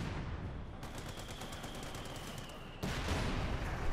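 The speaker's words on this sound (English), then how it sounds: "machine gun there, point blank." Machine gun fire in the World War II strategy game Company of Heroes 2, a sustained rattling burst of rapid shots over dense battle noise, swelling louder near the end.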